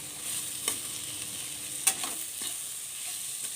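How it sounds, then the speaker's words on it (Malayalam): Two chopped tomatoes sautéing in a pan for an egg and soya chunks roast, with a steady soft sizzle, a few stirring scrapes and one sharper clack near the middle, with no talking. "ഇനി തക്കാളി ഒന്ന് നന്നായിട്ടൊന്ന് വഴന്ന് അലുത്ത് വരണം."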